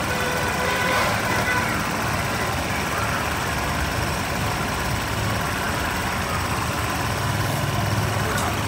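A Honda Lead 125 scooter engine idles steadily at around 2000 rpm, a constant close mechanical hum with faint road noise in the background and no change in pitch throughout.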